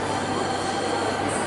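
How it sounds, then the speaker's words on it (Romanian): A small ride-on train rolls through a busy shopping mall with a continuous rumbling, rattling wheel noise and faint squeal, blended into broad indoor crowd ambience. "Îmi aștept rândul să iau trenulețul de aici"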